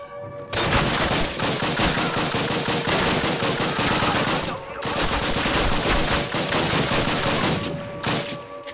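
Dense automatic gunfire in the Call of Duty video game, loud and almost continuous rapid bursts with a brief lull midway and another near the end.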